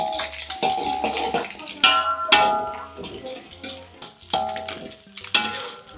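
Garlic frying in plenty of oil, with a steady sizzle broken by repeated stirring scrapes and clinks of a utensil against the pan, close and moderately loud.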